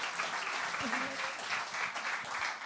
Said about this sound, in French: Je vous demande d'applaudir toutes les équipes autour de Karine Leclerc-Griveau